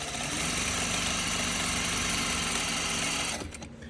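A sewing machine stitches a seam in fabric for a tote bag. It runs with a fast, steady mechanical whirring close by for about three and a half seconds, then stops abruptly, with no talking.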